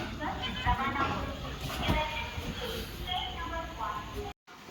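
Steady rumble and hiss of a train interior near Kanyakumari, India, with a rhythmic clatter underneath and people speaking over it.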